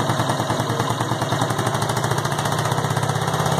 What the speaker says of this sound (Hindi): ये इसका जो अभी साउंड आप सुन रहे हैं 0 RPM पे